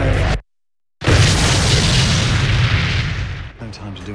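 A truck bomb detonates in a London street attack in a film trailer, a loud sustained roar and rumble after a sharp cut to silence, fading near the end.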